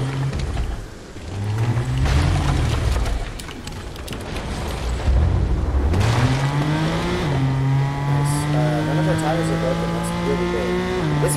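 Car driven in Fortnite Chapter 5 Season 2, its engine droning and revving up and down with rising pitch sweeps, loud and close, with game sounds and a voice talking over it.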